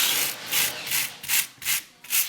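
A wire brush scrapes back and forth over a surface on foam wall panels, giving five or six rhythmic, close, harsh scratching strokes with short pauses between them, alone without talk.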